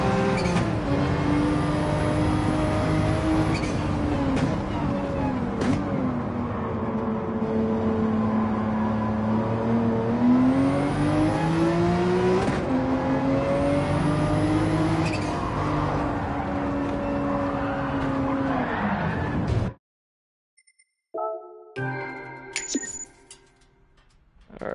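Race car engine in Gran Turismo 7 on sport hard tires, a steady droning whine that rises and falls with gear changes and throttle, loud and continuous before cutting out near the end, followed by scattered faint clicks.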